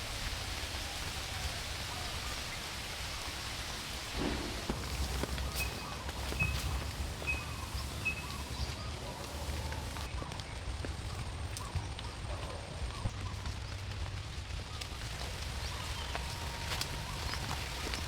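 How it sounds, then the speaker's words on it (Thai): Rain falling in a garden with bamboo nearby, a soft steady patter and hiss on leaves and ground, with scattered heavier drops and faint footsteps. "ฝนตกจะหลบในต้นไผ่ก่อน"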